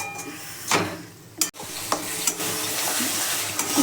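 Masala for chicken curry stirred and fried in a pan until the oil separates, close and steady sizzling with scraping stirs and brief clinks of a utensil against the pot.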